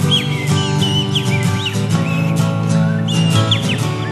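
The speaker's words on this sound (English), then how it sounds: "Some good bird noises there" Birds chirp and whistle in a series of short rising and falling calls over a dense, steady musical background.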